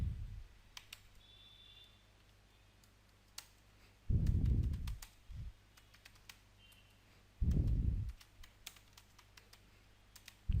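Bursts of rapid typing on a computer keyboard while HTML and JavaScript code is written, two dense clusters of clacking keys with scattered single clicks between, close and fairly quiet against a faint hum.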